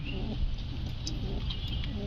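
Lakka pigeons coo softly and repeatedly from close by, low rolling calls over a steady background hum with no talking.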